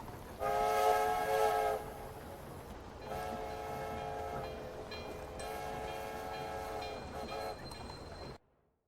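A train in the Railway Empire video game sounds its horn, first a short blast and then a longer sustained one, fairly faint over soft rolling rail noise before cutting off.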